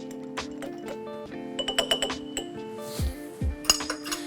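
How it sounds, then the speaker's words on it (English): A spoon stirring sugar, whiskey and coffee in a glass for an Irish coffee, bright ringing clinks against the glass in a quick rhythm, close and clear, with a couple of duller knocks. "With a spoon, just give that a quick little stir."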